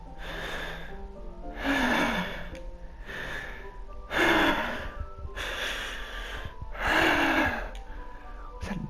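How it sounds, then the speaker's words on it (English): Sharp inhales in the video game Doki Doki Literature Club, like air sucked through teeth, repeating at a slow rhythm about every two to three seconds, close and fairly loud, alone over a low ambient bed. "A sharp inhale, like someone is sucking the air through their teeth."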